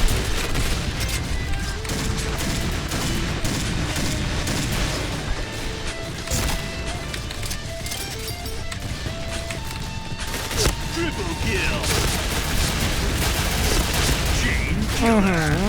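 Gunfire in a shooter video game comes in dense bursts and single shots with crashes and booms, and a voice talks over much of the shooting.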